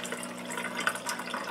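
Water slowly filling an open-face waterfall reservoir through a restricted hose, a steady soft trickling and splashing with faint bubbling, close and continuous.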